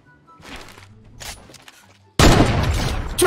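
A Fortnite gunfight sounds as a sudden loud burst of rapid gunfire that bursts in after quieter scattered in-game noises, dense and close, with a final sharp shot at the end.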